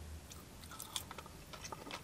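A fish shop chip with a crisp outside is chewed up close. Soft crunches and bites repeat irregularly for about two seconds, with nobody talking.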